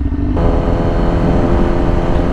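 A Yamaha R6 sport motorcycle fitted with a very loud aftermarket exhaust, revving hard; the loud, harsh engine tone climbs sharply near the start and holds a high, buzzing drone, close and without talk.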